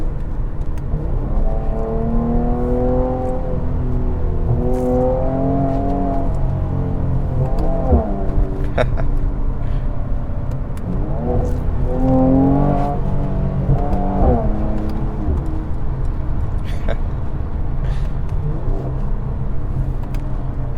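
A Mercedes C43 AMG sports sedan engine drones steadily with rising and falling revs and scattered sharp pops and crackles from the exhaust, loud and close, no talking.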